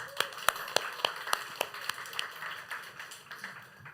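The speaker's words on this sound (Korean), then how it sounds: "박수 한번 쳐줍시다" A youth worship congregation claps for its cell leaders, a thin, fairly quick run of distinct claps that trails off into scattered applause.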